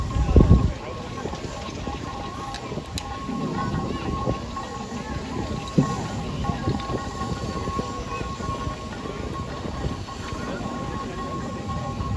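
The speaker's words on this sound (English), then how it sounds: "The Fowler Road locomotive is actually owned by Dave Norris" A Fowler steam road locomotive rolls past in a parade at a Sheffield steam rally, a continuous low mechanical rumble with steam hiss and a brief louder thump at the start, while people talk over it.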